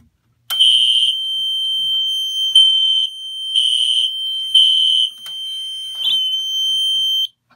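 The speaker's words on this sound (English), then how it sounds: "it's gonna go back to alarm" Loud electronic fire alarm panel tone pulsing in a repeating pattern of long beeps, with a steady tone continuing between pulses; no voices.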